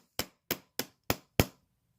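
Five sharp metallic hammer blows on a vintage Yale padlock, evenly spaced in quick succession, loud and close, with no talking.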